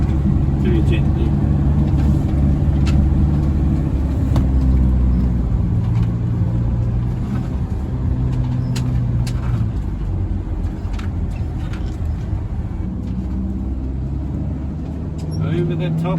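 A Sprinter van creeps slowly over soft desert sand on the Simpson Desert crossing, its engine a steady low rumble with road-free whooshing, and voices talk faintly inside the cab.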